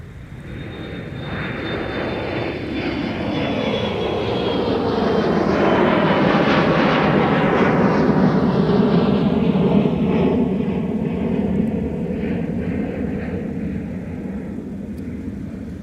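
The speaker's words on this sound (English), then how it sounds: "So that was SkyOS 4169 and Embraer 175 headed to Chicago Midway." An Embraer 175 jet airliner at MSP airport passes by, its engine roar building from a distance to a loud, broad rumble at mid-clip and then slowly fading, with no talking.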